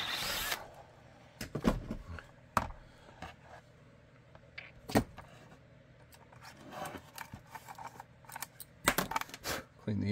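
A power drill bites through holster material in short, sharp bursts, with scattered clicks, rubs and handling noises between them, all fairly quiet and close.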